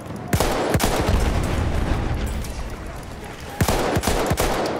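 Gunfire in Battlefield 1 conquest gameplay: a dense, continuous battle din with sharp individual gunshots cracking out near the start and again toward the end, loud and close.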